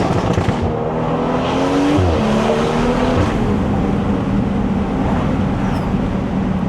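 BMW 340i with a B58 engine, fitted with aftermarket intake and exhaust, drops a gear on a drive, its engine note stepping down and then droning on steadily and loud, close up from inside the car.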